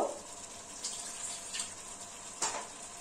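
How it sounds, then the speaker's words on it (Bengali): Hot water is poured into a sizzling cauliflower curry in a pan, a faint quiet gush with soft sizzle and small splashy bursts over a few seconds. "সামান্য একটু গরম জল দিলাম।"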